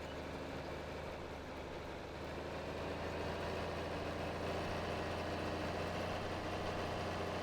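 A tractor engine in Farming Simulator 22 drones steadily while pulling a cultivator at slow field speed, a continuous loud low rumble with no breaks and no voices.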